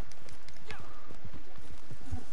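Hooves clip-clop in a quick, uneven rhythm in the video game Red Dead, with a brief whinny and people talking over the hoofbeats.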